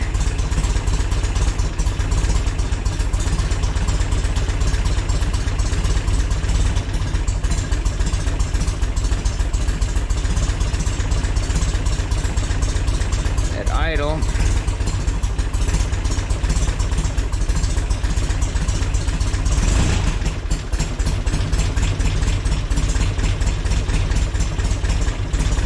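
A 1966 Volkswagen Split Bus engine idles steadily and close by, a continuous even rumble that holds for the full stretch, with a brief higher chirp partway through and no talking.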